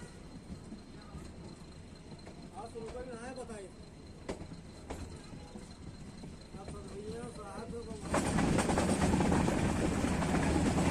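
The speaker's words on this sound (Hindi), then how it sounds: "और ट्रेन के बाबागंज से निकलने के बाद" A train pulls out of Babaganj railway station on a metre-gauge line, with steady rolling rumble and clatter under a nearby voice, then a sudden louder, broadband roar as it gathers speed.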